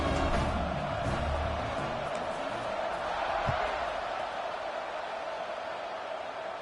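Stadium crowd in a college football video game, UCLA at BYU late in a tied fourth quarter: a sustained, diffuse roar of cheering that stays broad and steady with one brief thud partway through.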